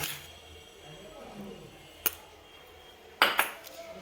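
Powdered milk stirred into a sweet mixture of semolina with a spoon, heard as quiet scraping with two sharp clinks of the spoon against the bowl, one brief and one longer.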